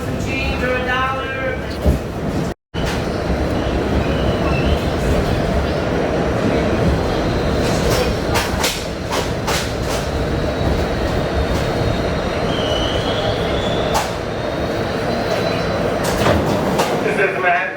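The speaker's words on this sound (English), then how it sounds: "This is the Manhattan Down Q train." MTA R68A subway car on the Manhattan-bound Q line rumbles steadily along the track, with a constant dense roar, brief wheel squeals and clatter, and one short dropout near the start.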